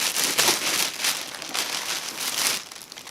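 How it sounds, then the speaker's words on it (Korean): A large plastic vinyl sheet crinkling and rustling as it is handled, bursts of bright crackling swelling and fading in an uneven rhythm, close and fairly loud, with no talking. "재료에는 제가 이렇게 커다란 비닐을 준비를 했어요."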